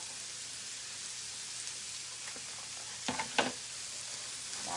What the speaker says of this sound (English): Lots of mushrooms, sauteing, good stuff.